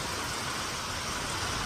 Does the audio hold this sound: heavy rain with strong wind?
yes